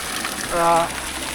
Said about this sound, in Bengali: এই যে এখানে হচ্ছে পাইপ দিয়ে পানি আসতেছে।